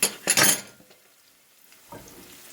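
A lid goes onto a frying pan holding apple vertuta pastry: a short burst of clattering metal and rustle, then near quiet with faint sizzle and a soft later knock.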